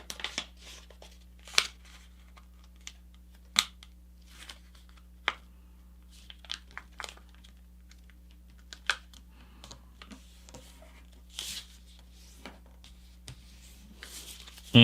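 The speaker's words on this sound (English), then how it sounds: "flip the paper over, and we're going to now fold this top edge into the center" Paper being folded into a paper airplane, soft crisp creases and light crinkles scattered through the clip, close and fairly quiet against a low steady hum, with someone speaking between folds.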